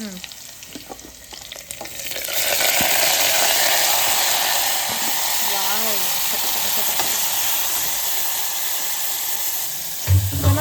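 Onion frying in hot oil in a home kitchen pan, a bright sustained sizzle that flares up loudly after a quieter start and crackles steadily, with a few stirring scrapes and clinks near the end.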